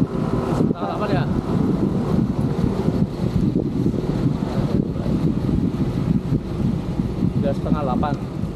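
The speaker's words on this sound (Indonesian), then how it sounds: "Iya, anginnya kenceng nih." Strong outdoor wind buffets the microphone during a bicycle ride around Indramayu town, a constant low roaring rumble with gusty surges, while people talk faintly underneath.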